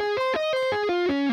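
A distorted electric guitar plays a C locrian arpeggio as a quick, even run of plucked notes stepping downward, loud and alone.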